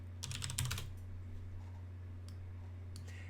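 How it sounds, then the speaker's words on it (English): A short burst of keystrokes on a Mac computer keyboard, close and crisp, followed by a couple of isolated taps over a steady low electrical hum. "I'm just going to type Xcode up in the search."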